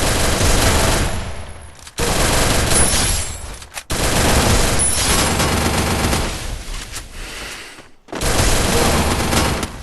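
Sustained bursts of automatic gunfire in a shooter video game, loud and dense, with a few brief pauses between long rapid volleys.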